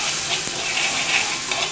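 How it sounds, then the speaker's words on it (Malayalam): Sambar masala and tomato mixture is stirred in a hot pan, with a continuous close sizzle and frying hiss under soft scraping stir strokes, and no speech. "ഈ പച്ചമണം മാറുന്ന വരെ നമുക്കൊന്ന് നല്ലപോലെ ഒന്ന് അത് മിക്സ് ചെയ്ത് കൊടുക്കാം"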